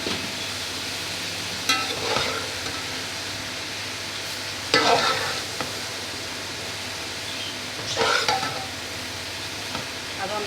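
Rice being added and stirred in a pan for Singaporean rice, a soft steady sizzle with three distinct scraping stirs spaced a few seconds apart.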